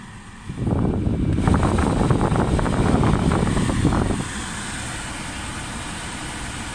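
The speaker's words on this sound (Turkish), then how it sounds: "Önce aracımızı çalıştırıyoruz. Fanı açıyoruz." A car engine idles with the cabin ventilation fan switched on, a steady broadband rush of air swelling in over the engine hum for a few seconds, then dropping back to a quieter, even drone.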